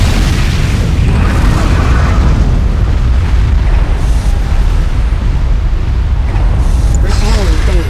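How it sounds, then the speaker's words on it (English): A nuclear missile detonation in the Command & Conquer 3 video game sounds as a loud, sustained booming rumble that fills the whole clip. Dense low-end roar continues throughout, with bursts and mechanical noise layered on top. "Nuclear missile activated."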